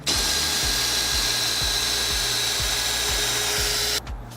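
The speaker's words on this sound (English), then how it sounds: "All I need for this is a size 20 Torx bit and a cordless screwdriver." A cordless screwdriver fitted with a size 20 Torx bit unscrews WPC composite decking, a loud, steady close-up motor whine pulsing with regular rapid clicks before cutting off abruptly near the end.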